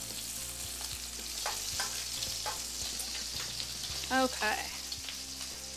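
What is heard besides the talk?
bacon frying in a pan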